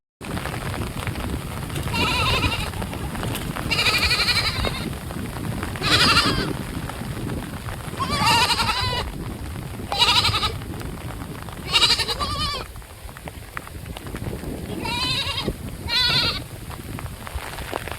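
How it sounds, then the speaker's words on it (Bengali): Goats in a Sundarbans village bleat as they crowd under an umbrella during heavy monsoon rain: about eight close, wavering bleats spread across the stretch over a constant hiss of rainfall. "এই ছাগলগুলো দেখুন আমার ছাতার নিচে এসে দাঁড়িয়ে পড়েছে"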